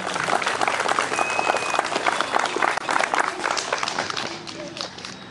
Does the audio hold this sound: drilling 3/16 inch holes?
no